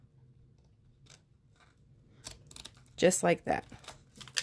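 Scissors trimming excess material: a quick cluster of crisp, close snips following a quiet stretch, with a voice speaking briefly.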